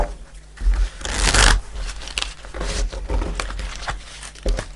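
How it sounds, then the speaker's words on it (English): Tarot card deck being shuffled by hand, a series of close papery riffles and slaps in irregular bursts, with one louder burst early on. "This deck always takes a bit of shuffling"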